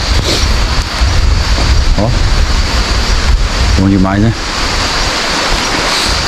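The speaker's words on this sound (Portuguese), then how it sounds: "A chuva, né? Olha que beleza." Steady rain falls in the mountains, a dense, even hiss filling the whole stretch, with someone speaking briefly over it.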